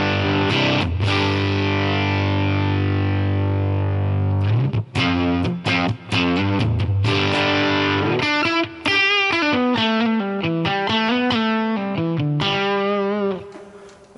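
An electric guitar plays through a Mesa Boogie Mark IV amp model on a Line 6 Helix with heavy distortion: a long sustained chord rings first, then tight staccato chugs and a quick melodic run, loud and alone.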